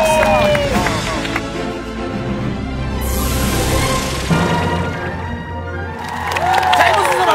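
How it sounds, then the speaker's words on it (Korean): A studio audience at a Korean variety show applauds and cheers after a dance and big band performance, a broad wash of clapping and crowd noise that swells and fades, with a host's voice over it. "우모자 팀과 그리고 빅밴드에게 다시 한 번 더 박수 부탁하겠습니다"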